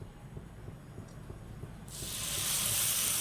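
Uthappam dosa batter meets a hot pan, starting as a low rumble that swells into a loud, steady hiss of frying.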